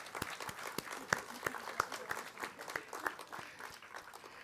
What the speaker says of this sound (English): Let's give another round of applause to our new citizens.